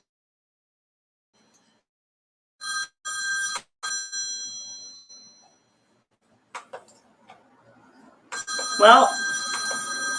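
A telephone rings in short harmonic bursts in the background of a home knitting session, with a pause between rings and another ring sounding again near the end while a person talks briefly.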